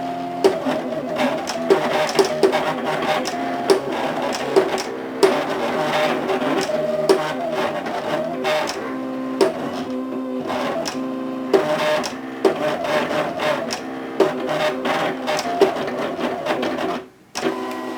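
A Cameo cutter draws an envelope address with sketch pens, giving a steady mechanical whir and buzz with rapid stepping clicks. It runs close and continuous for the whole stretch, with a brief dip near the end and no talking.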